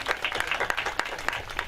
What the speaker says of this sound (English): So we have to give a big hand of applause to Mrs. Pillai.